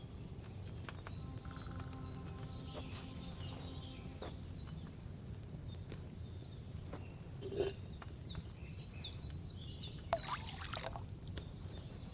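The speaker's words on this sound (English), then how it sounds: "you have to pour the right base into the cauldron" In the medieval game Kingdom Come: Deliverance II, wine is poured from a pitcher into an alchemy cauldron, a faint, quiet trickle over soft ambient background with a couple of small clunks.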